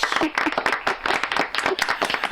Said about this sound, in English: a big round of applause for our beautiful mayor, Dorothy Knauss.